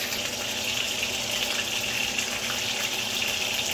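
Water poured into a pot of bourbon chicken sauce with chicken stock, a steady close splashing pour with no pauses and no talking.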